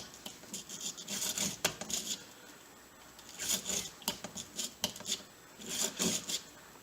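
Cleaning patch scrubbed back and forth through a revolver barrel, giving several bursts of raspy rubbing and scraping in short groups with quiet pauses between, close and fairly soft.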